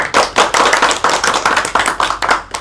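A classroom group claps together in a microteaching lesson, a dense burst of close, loud hand claps with a brisk uneven rhythm lasting a few seconds.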